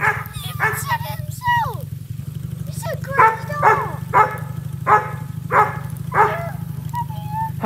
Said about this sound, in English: The dog is having the time of her life.